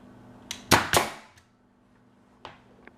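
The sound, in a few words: Bostitch 16 gauge finish nailer firing into reclaimed wood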